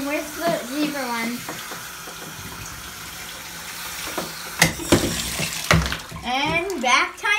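During a dog's bath in a tub with rubber duck toys, water splashes in scattered bursts beneath a person chatting, with a few sharper splashes near the end.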